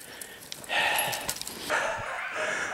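Dogs chasing a hare give excited yips and short barks at a distance. The calls come in bursts of two or three over an outdoor background, with no talking.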